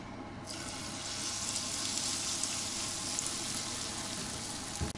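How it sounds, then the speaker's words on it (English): Winkle fritters fry in a small pan of olive oil, a steady, close crackling sizzle that starts abruptly after a brief quiet moment and holds evenly throughout, with a small clunk at the end. "I've got a small pan of olive oil warming up there"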